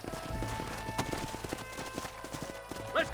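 Rhythmic clip-clop of horse hooves walking in the video game Red Dead Redemption, close and steady, with a faint snort and soft voices in the background.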